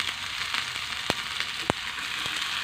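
Garlic and grated coconut fry in hot coconut oil, a steady close sizzle with a few sharp crackles and pops, no voices.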